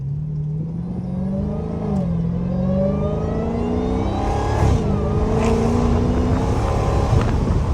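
A Dodge Hellcat's engine revving up and down in several rising and falling pulls, loud and close from inside the car, with a deep rumbling tone throughout.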